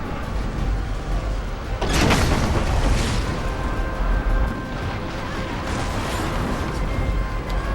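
In the video game Heavenly Sword, a catapult breaks apart during a siege, heard as a loud booming crash under continuous dense battle noise that rumbles on afterward.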